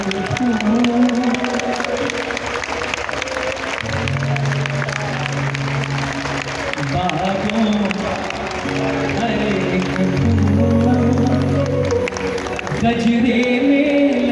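A crowd claps loudly at the 50th Shyam festival at the Shyam temple in Hansi, with sustained applause mixed with tonal music and voices throughout.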